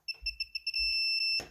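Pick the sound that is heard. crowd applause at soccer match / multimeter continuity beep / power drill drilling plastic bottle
multimeter continuity beep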